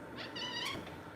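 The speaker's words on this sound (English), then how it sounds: "Cheesy Pete, cat." A house cat meows once, a short rising and falling call close by over faint background hum.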